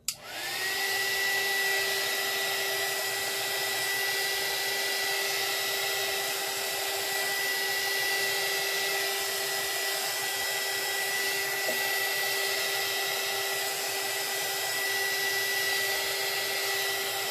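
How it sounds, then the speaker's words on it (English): Embossing heat gun blowing alcohol ink on a painted rose, switching on abruptly and then holding a steady, even whir with a constant tone for the rest of the clip, close and alone. "So just keep moving the embossing gun and pushing the ink inward in different directions."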